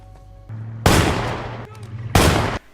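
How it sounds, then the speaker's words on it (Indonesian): Two loud, close gunshots ring out in a film scene as a man fires at criminals to scare them off, each blast sharp and booming with a decaying tail, separated by about a second and a half. "Lalu Ben menembakkan senjatanya ke arah penjahat itu yang semata-mata hanya untuk menakut-nakuti"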